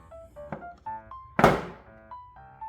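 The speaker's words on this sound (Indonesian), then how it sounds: "Kemudian kita tutup saja pintunya" A Toshiba RWF-W1830UVBN(T) bottom-load water dispenser has its door pushed shut with one firm, close thunk-click. Faint, brief tonal sounds come before and after it.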